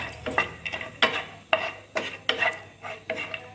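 Small cashew pieces roast in ghee in a pan for ragi laddu, with a soft sizzle under regular, close scraping strokes of a spoon stirring, about two per second. No voices are heard.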